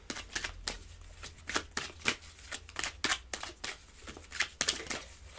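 Tarot cards being shuffled close by, a rapid series of crisp riffles and slaps that repeats in quick bursts for several seconds with no speech over it.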